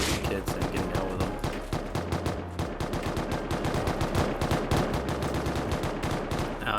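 Loud, dense gunfire from the survival game Rust on console, with rapid automatic bursts and overlapping shots hammering almost nonstop through the whole stretch, and no voices.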